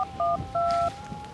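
Telephone keypad dialing tones, a few short dual-tone beeps in quick succession, clear and close, followed by a steadier tone, with faint room noise beneath.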